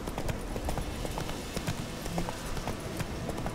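Hoofbeats of the horse Roach in The Witcher 3, a steady clip-clop of galloping repeated close by over a low outdoor ambience, with no talking.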